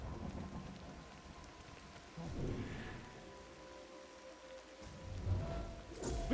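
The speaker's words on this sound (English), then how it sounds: "Okay, rain is not great for us." Rain patters steadily in a video game while low rumbling thunder rolls through, with a heavier swell of storm noise toward the end.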